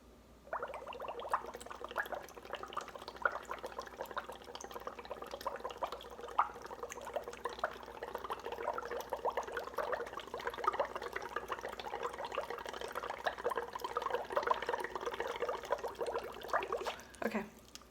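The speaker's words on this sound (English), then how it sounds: "when I blow into this little straw" Breath blown through a small straw into a cup of water makes a continuous bubbling gurgle that runs steadily for about fifteen seconds, close and fairly soft, before stopping abruptly.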